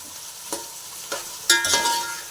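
A spoon stirring Andhra-style country chicken curry in a hot pan, three scraping strokes in a row, the last one longer, over a faint sizzle.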